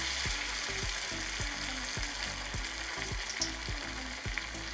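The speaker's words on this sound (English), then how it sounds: "I'm gonna start dropping the cauliflower in the oil." Battered cauliflower pieces frying in hot oil on a stove, a steady close sizzle with a soft regular clatter of about nine light knocks, no talking.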